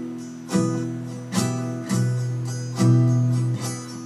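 An acoustic guitar strums a repeating pattern of chords with accented strokes on one, four and seven, ringing strums landing about every half second to second, played alone.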